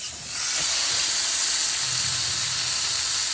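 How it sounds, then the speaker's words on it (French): Steak pieces laid into hot butter in a pan give off a loud, steady hiss of sizzling that swells in the first half-second and then holds evenly, with no talk over it. "J'ai mis le beurre, maintenant je dépose mes pièces de steak."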